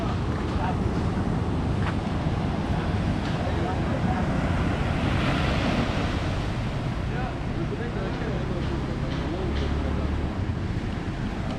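Ocean waves wash onto the beach at Canggu, Bali as a constant, loud roar of surf mixed with heavy wind buffeting the microphone.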